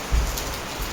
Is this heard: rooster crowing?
no